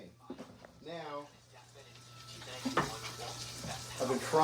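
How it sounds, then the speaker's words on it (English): Burgers sizzle and fry steadily in a pan for a patty melt, a continuous crackling hiss running underneath a person talking. "I've been frying these burgers about 2 minutes on both sides"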